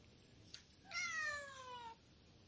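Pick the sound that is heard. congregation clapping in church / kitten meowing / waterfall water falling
kitten meowing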